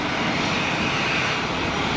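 An easyJet airliner passes at Geneva Airport with a loud, continuous, broadband jet roar that holds steady throughout.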